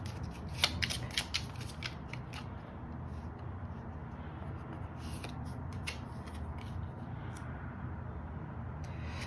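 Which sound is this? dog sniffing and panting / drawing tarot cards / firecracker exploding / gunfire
drawing tarot cards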